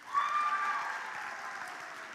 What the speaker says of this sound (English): one more round of applause for our new faculty